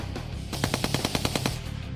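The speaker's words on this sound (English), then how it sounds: "firearms designer John M. Browning, the M250 caliber machine gun, also known as the Ma Deuce, was developed just after the end of World War I" A Browning M2 .50 caliber heavy machine gun fires one short burst of about ten evenly spaced heavy reports, loud and punchy, over a low background rumble, with no voices.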